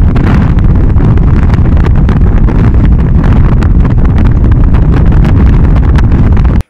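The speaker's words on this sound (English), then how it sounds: "Wind blows most of the time, creating spin drifts, leeward of our tents and our equipment." Strong wind on the Greenland ice sheet roars steadily and loudly, buffeting the microphone with a constant low rumble that never lets up and cuts off abruptly at the end.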